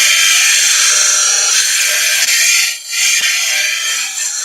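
A hand-held cutting tool takes fine cleaning cuts across chamfered timber side grain, its bevel rubbing the wood, producing a steady, loud, close hiss of shaving that dips briefly before resuming.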